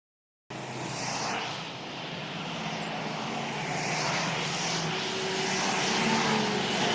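Airplane flying overhead near an airport, a broad roaring jet rush that starts abruptly, then holds and slowly swells louder over several seconds.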